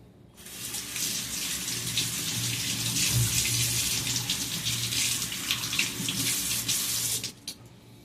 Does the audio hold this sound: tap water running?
yes